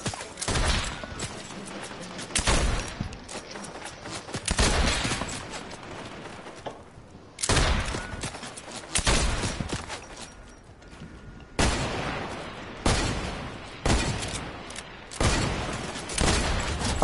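Repeated bursts of gunfire in a video game, aimed at a sniper: loud clustered volleys with booming low end, separated by brief lulls, continuing for the whole stretch.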